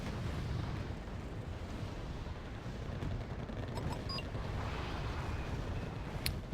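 Airstrikes hammering troops in the war game Wargame AirLand Battle, a steady roar of distant rumbling explosions and booms with a few sharper cracks near the end.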